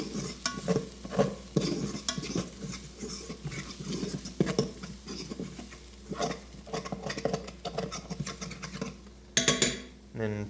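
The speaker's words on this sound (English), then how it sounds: "Stir this around." Beans and beef are stirred in a pot, with repeated scraping and clinking of a utensil against metal amid a soft simmer, fairly close, with faint talk in the background.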